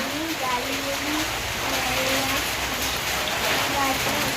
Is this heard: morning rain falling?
yes